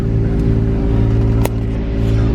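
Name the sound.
Nissan G35 engine running and revving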